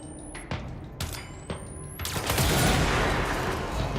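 Gunfire in the Control video game: four sharp shots spaced about half a second apart, then a dense, sustained burst of rapid fire that rumbles on, loud and close.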